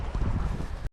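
Strong wind buffets the microphone at the Kaunas Reservoir scooter bay during a casting practice session, a dense, steady low roar with gusty swells that cuts off abruptly near the end.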